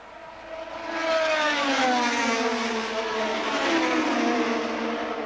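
A 1984 McLaren Formula 1 car, freshly fitted with a new engine, screams past at the Italian Grand Prix. The high-revving wail swells, holds loud and shifts pitch as the car goes by, with no talk over it.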